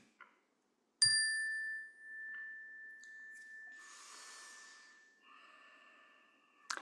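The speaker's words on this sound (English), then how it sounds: "May we allow the bell to lead us in a time of prayer and meditation." A meditation bell struck once during a Unitarian worship service, opening a time of prayer: a bright metallic strike followed by a long, steady ringing tone that sustains for several seconds in a quiet room, with a faint soft breath or rustle mid-ring.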